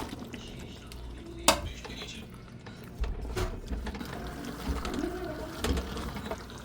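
Fried chicken pieces being added into a thick spiced masala cooked with yogurt in a pan, with scraping spoon and pan clatter, a sharp metallic knock, and a soft sizzle throughout.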